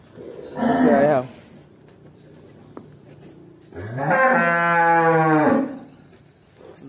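A pair of young bulls for sale on a Vietnamese cattle farm low twice: one short moo, then a longer, loud, drawn-out moo, with quiet background between the calls.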